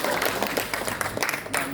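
Audience applause for a film's hero at a movie launch ceremony at BFDC, a dense burst of clapping filling the room at close range, with some voices mixed in.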